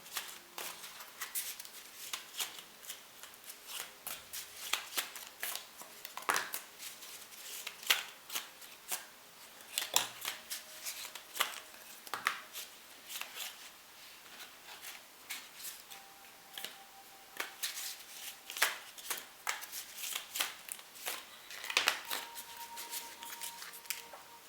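A deck of wisdom cards being shuffled by hand in a quiet room, with repeated soft riffling and card slaps in irregular bursts, close and fairly faint, with no talking.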